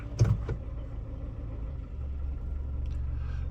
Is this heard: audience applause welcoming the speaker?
no